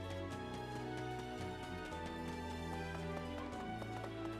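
Horses in the video game Fire Emblem: Three Houses, a faint, busy clatter of hooves over soft game music, steady throughout.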